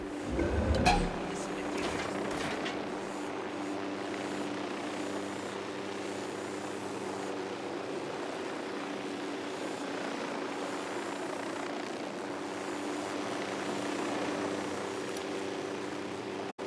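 Helicopter flying overhead in the video game Ghost Recon Wildlands, a steady loud rotor and engine drone that holds throughout after a brief burst of noise at the start.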